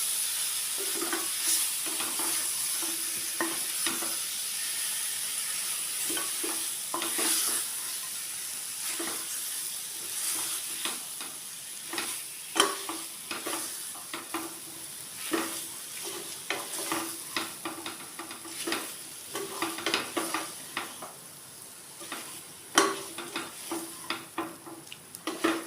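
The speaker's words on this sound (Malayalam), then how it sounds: "ഇതിനോടൊപ്പം തന്നെ ആവശ്യമുള്ള ഉപ്പും കൂടി ഇട്ട് കൊടുക്കുകയാണ്. ഇത് നന്നായിട്ട് ഇളക്കി യോജിപ്പിക്കാം." Tapioca (kappa) tossed with salt in a frying pan gives a long run of scraping, clicking stirs against a low sizzle, the strokes growing quicker and sharper toward the end, with no one talking.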